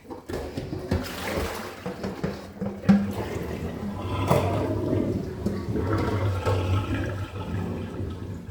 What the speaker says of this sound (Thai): เปิดน้ำล้างเลยค่ะ